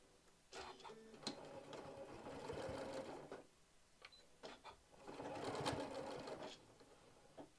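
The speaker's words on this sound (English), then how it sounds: "Then we are just going to straight stitch." A sewing machine straight stitches a fabric travel tissue holder in two quiet, close bursts of rapid mechanical chatter, with a short pause between them.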